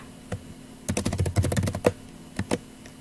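Fingers type on a computer keyboard while entering a chat message, with one isolated keystroke, then a quick dense burst of clicks and two final taps, close and clear against quiet room tone.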